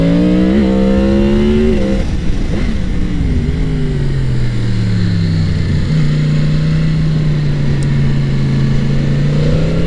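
A 2022 Yamaha MT-10 motorcycle on its stock exhaust accelerates, the engine note climbing, dropping between gear changes, then settling into a steady mid-pitched drone nearby.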